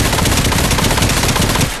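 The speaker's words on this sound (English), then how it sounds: "you can actually grab the full grip of this weapon with your other hand to steady your aim while firing" Rapid automatic gunfire from a primary weapon in the VR shooter game Espire 1, a dense, loud, continuous burst of shots lasting nearly two seconds without a break.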